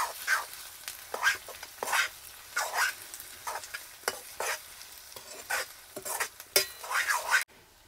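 Ginger garlic paste stirred in a frying pan for a crab dish: rhythmic scraping strokes of a spoon against the pan about every half second, with a soft sizzle underneath.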